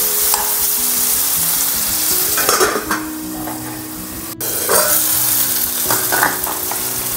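Tomatoes and coriander frying in a pan, with a steady close sizzle throughout and a few clinks and scrapes of stirring against the cookware.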